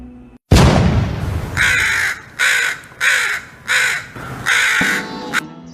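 A crow caws loudly close by, five or six harsh calls in a steady rhythm that follow a sharp thump at the start, with no talking.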